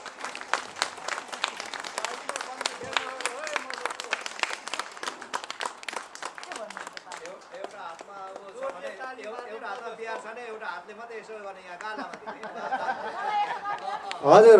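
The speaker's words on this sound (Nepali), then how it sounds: "यहाँहरू सबैले जोरजार तालीले" An audience at a Kirat Rai Mundhum community event in the UK breaks into sustained applause, dense clapping fading into scattered claps and murmured chatter as voices rise near the end.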